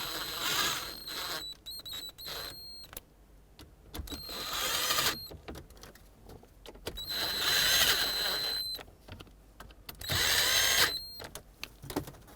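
A power tool drives screws into a dash panel of a 2008-2010 Ford F-250 Super Duty 5.4L V8. It sounds as several short whirring bursts separated by quiet pauses, close and moderately loud.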